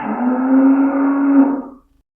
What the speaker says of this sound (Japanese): 牛、